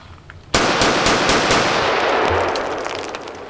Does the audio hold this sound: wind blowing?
no